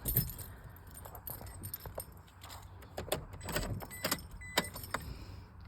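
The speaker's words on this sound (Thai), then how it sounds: "อันนี้พวงกุญแจ ทั้งสำรองอะไรเอ่ยนะคะ อยู่ครบเลยหลายดอก" A bunch of car keys for a 2006 Toyota Hilux Vigo E with a 2.5 engine jangles and clinks in sharp, scattered bursts close by, over a faint background hum.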